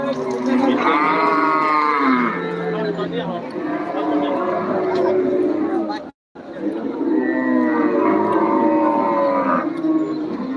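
Cattle moo repeatedly at the Deohata cattle market, long drawn-out lowing calls from several animals close by, overlapping one another amid crowd chatter, with a brief cut partway through.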